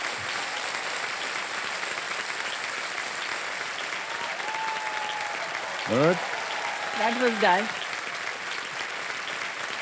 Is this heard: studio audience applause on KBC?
yes